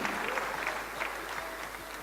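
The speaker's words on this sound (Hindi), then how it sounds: "आपकी तालियां खुद ब खुद बज रही हैं," An audience claps at a motivational talk on network marketing, a fairly quiet patter of hands with scattered distinct claps over a low room hum.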